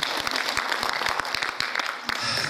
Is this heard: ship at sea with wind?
no